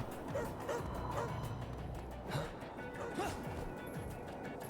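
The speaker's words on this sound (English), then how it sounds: "I hear police dog." A police dog in the video game Astral Chain gives several short barks and yips spread across the span over a busy background, moderately near.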